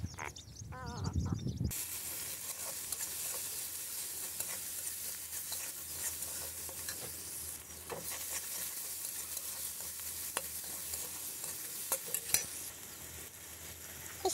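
Whole spices sizzle and fry steadily in a hot pan while being stirred, heard as a loud, continuous hiss with scraping, from a home kitchen before water spinach goes in; no one speaks.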